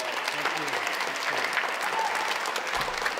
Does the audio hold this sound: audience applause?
yes